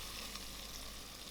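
Coconut milk boiling in a pan of Indonesian yellow curry with turmeric, a soft continuous bubbling sizzle, steady and quiet with no talking.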